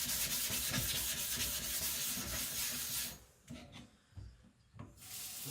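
A knife-sharpening stone has its surface roughed up for fresh grit before work on an AEB-L gyuto, making a steady close abrasive rubbing that runs continuously, then breaks into shorter strokes with quiet gaps.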